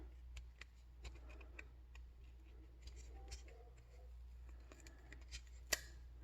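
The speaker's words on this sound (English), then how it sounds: "Let me ASMR peel this sticker off here." Protective sticker slowly peeled off the screen of a Bluetooth 100A DC power meter, very quiet close ticks and small crackles scattered over several seconds, ending in a sharper snap.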